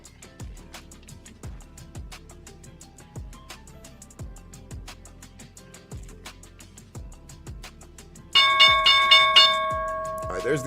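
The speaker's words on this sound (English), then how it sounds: "Heading into the opening bell now" Stock market opening bell ringing, a bright clear electronic bell tone that sounds several times near the end, following a stretch of regular low clicks.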